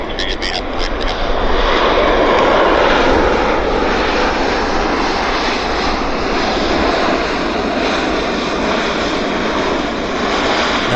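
A jet airliner at Vancouver Airport roars loudly and continuously, a broad rumbling engine drone that holds steady throughout as the aircraft passes close by.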